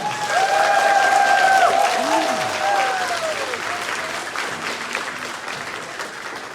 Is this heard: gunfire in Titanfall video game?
no